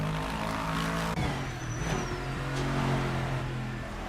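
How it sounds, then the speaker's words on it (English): Engine of the Lexus number 48 GT3 race car on a flying lap in a racing video game, a steady loud drone with a shifting pitch, a brief dip near the middle, and no talk. "our resident axolotl, Aquazuri, who is about to set her own flying lap here in the Lexus number 48."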